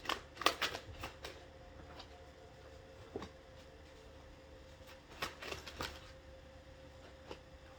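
Tarot cards being shuffled by hand during a reading: quiet, irregular papery flicks and riffling clicks in short clusters, close up, over a faint low hum with no talking.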